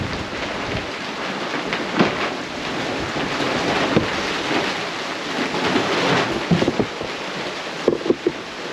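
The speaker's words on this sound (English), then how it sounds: "Rain's like blowing in the door." Storm rain blowing in through a cabin door, a loud, dense roar of wind-driven rain with rumbling gusts and buffeting, plus several sharp knocks and clatters toward the end.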